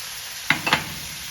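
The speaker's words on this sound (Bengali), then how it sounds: "এখন এটাকে খুব সুন্দর করে মিক্স করে নেব" Half-boiled mixed vegetables are stirred in a frying pan: a sharp scrape, then two quick strokes of the spatula, up close over a faint sizzle.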